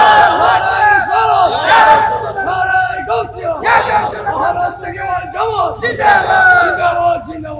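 A large crowd at a Bengali Islamic sermon shouts Allahu Akbar in unison, answering a takbir call with loud, echoing chanted swells that rise and fall.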